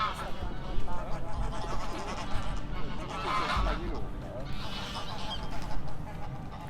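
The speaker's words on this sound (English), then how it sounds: "We're going to walk past lots of birds" Geese and ducks honk and quack repeatedly in St James's Park, London, a busy mix of calls at moderate distance under steady outdoor background, with people talking.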